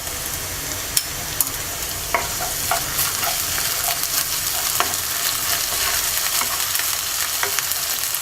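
Ginger-garlic paste fries with browned onions in hot oil, a close and steady sizzle broken by intermittent spatula scrapes and taps against the pan, with no voices.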